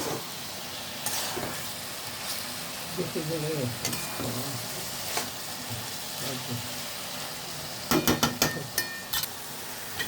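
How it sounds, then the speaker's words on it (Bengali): Grated coconut frying in a wok for a Bengali taro-stem dish, with soft continuous sizzling and occasional clinks and scrapes of a stirring spoon against the pan, close and moderately quiet, with no speech. "নারকেলটাকে ভাজা হচ্ছে এই কড়াইতে"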